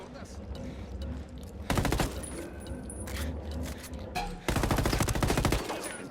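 An AK variant rifle fires in fast automatic bursts in the shooter game Ghost Recon Wildlands. Two loud, close stretches of sustained rattling gunfire are heard, with game noise and faint distant shots between them.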